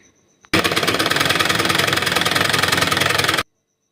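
A sewing machine stitches along a folded 1.5-inch fabric strip for a child's shirt, starting abruptly into a loud, fast, steady mechanical rattle for about three seconds before stopping dead.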